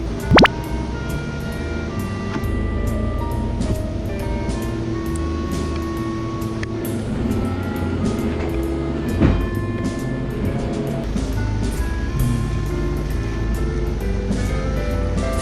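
A BMW 320d diesel engine idles steadily with a low, even rumble throughout, accompanied by occasional faint clicks and knocks nearby.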